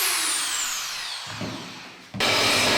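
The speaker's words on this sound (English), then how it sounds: "Deburring the ends of the rod so that there's no sharp edges is very important" A power tool deburrs the ends of a half-inch plated steel rod, giving a grinding whir that fades out and then starts again at full strength, close up with no talking.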